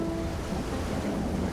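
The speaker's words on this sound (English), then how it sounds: "Waves are still dangerous." Ocean waves and surf in the survival video game Stranded Deep, a steady rolling wash of water with windy rumble, continuous and fairly loud with no talk.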